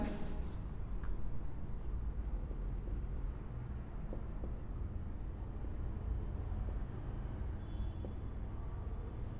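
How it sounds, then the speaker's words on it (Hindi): Hand-writing Hindi vowels, steady scratching of a pen or marker across a surface over a low constant background, with a faint voice under the strokes. "वापिस सभी स्वर को लिख लेते हैं पहले।"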